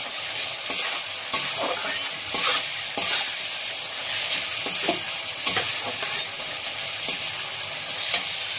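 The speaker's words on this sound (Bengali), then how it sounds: "আমি আস্তে আস্তে করে ঢাকা দিয়ে দিই মাংসটা, এর মশলাটা কষে নেব।" Mutton sautéing with spices in a pan, a loud, steady close sizzle punctuated by repeated stirring scrapes and clinks of a spoon against the pan.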